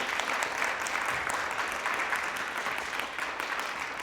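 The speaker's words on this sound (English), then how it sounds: "can we give a huge round of applause for this panel?" Audience members at a rural transportation advocacy event give the panel a round of applause: a thick, continuous crowd clapping, fairly loud and even, with no talk over it.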